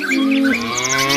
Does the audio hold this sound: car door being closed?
no